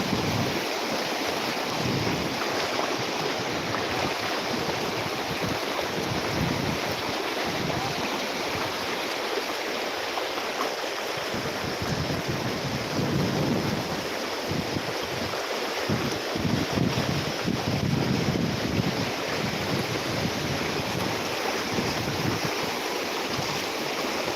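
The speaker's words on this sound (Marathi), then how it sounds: "इथे पाणी आहे ना तोडतंय तर बघा आम्ही कसं चाललोय ते पाण्यातून" Rushing floodwater in a village during a monsoon flood, a steady loud roar and wash of water filling the scene, with wind buffeting the microphone and no clear talk.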